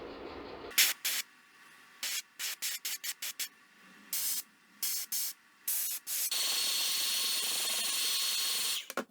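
Spray gun laying pearl satin gold paint onto a 12-inch glide bait, a series of short sharp hissing bursts followed by one long sustained spray, close and loud with no talking.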